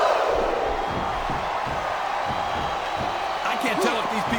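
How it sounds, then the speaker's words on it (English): A steady arena crowd roar in the WWE SmackDown vs Raw 2007 wrestling video game, continuous and loud, with faint commentary voices woven in toward the end. "I think this crowd's giving these superstars a piece of their minds, King."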